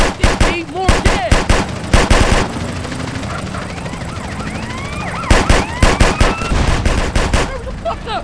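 Loud bursts of rapid automatic gunfire in a GTA San Andreas drive-by, coming in clusters with a pause between, over a siren and helicopter wail and occasional shouted voices.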